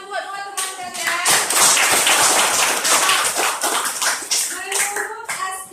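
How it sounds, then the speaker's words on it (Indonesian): A sixth-grade primary school class in Aceh claps for two classmates, bursts of fast, uneven hand clapping from many children, with children's voices heard at the start and end around the applause. "tepuk tangan buat dua teman kalian"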